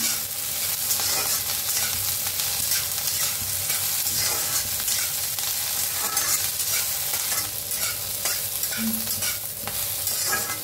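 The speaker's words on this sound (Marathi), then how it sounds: "मिरच्या हलवून बघा, डाग पडूस तर भाजून घेऊया" Green chillies stirred and dry-roasted in a pan until blistered, giving a steady, close sizzle with continuous scraping and stirring throughout, no voices.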